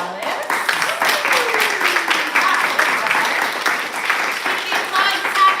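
A poetry slam audience applauds steadily as the next poet approaches, clapping close and continuous, with a voice speaking over it.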